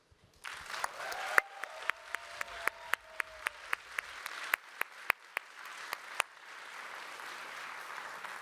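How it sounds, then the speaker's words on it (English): Audience applause at a science and innovation award ceremony in a large hall, steady clapping with sharp, regularly spaced loud claps near the microphone, lasting several seconds and thinning out toward the end. "I want you to give again a big round of applause for Lois and her incredible work."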